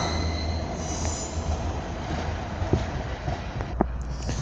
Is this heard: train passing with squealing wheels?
yes